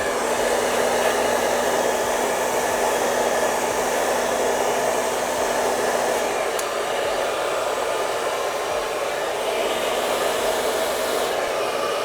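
A hair dryer running steadily on low heat and low intensity while blow-drying thin hair, a close, continuous broadband whoosh with no talking throughout.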